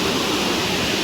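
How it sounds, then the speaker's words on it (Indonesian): Loud, continuous roar of a waterfall (curug) near a glamping site, a dense, steady rushing wash that fills the clip with no break and no voices. "karena ini suara air terjunnya berisik banget tuh."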